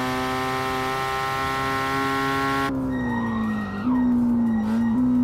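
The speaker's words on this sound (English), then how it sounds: "It revs for an eternity, though." A racing car engine in the video game Assetto Corsa holds a high, steady rev, then drops abruptly into a lower, shifting whine as the pitch slides down and back up.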